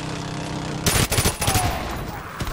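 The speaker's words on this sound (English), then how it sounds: "Oh, that sentry gun." A sentry gun in the Call of Duty game opens up with a rapid burst of automatic fire that breaks a quiet ambient hum, with loud, chattering shots for about a second and a half before trailing off.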